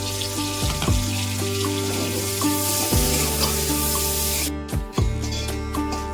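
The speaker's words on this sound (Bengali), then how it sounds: "পিঁয়াজ একটু ভেজে নিই" Onions fry in a pan with a continuous hissing sizzle. Sustained tonal notes sound alongside, and the sizzle briefly breaks and swells again near the end.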